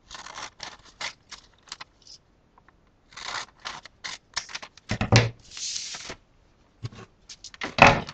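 Scissors cutting out a paper pattern for a jacket lapel, in a series of short crisp snips and slides, close and fairly loud, alone with no talk.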